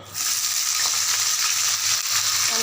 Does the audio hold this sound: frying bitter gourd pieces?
yes